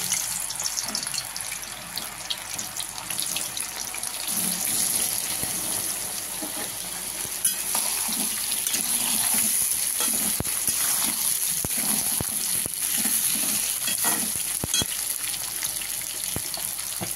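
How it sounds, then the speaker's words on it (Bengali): Mango pieces dropped into hot oil for aam kasundi give a steady, close sizzle and hiss of frying that runs through the whole stretch without a break. "তেল গরম হয়ে গেছে, আমি আমটা ছেড়ে দিচ্ছি।"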